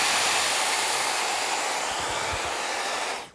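Hair dryer running at close range, a loud steady whooshing rush of air that continues evenly before cutting off at the end.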